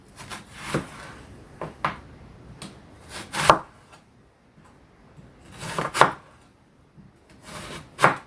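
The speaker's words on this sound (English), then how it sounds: "So I like to draw the knife towards me instead of trying to cut all the way in." A knife slicing through an onion on a wooden chopping board, a slow, irregular series of sharp cuts and knocks against the board, with quiet drawing strokes between them, heard close.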